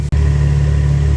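A naturally aspirated 6.5-litre V12 Ferrari 812 Superfast fitted with an IPE exhaust holds a loud, steady engine drone with a strong low hum after a brief dropout near the start.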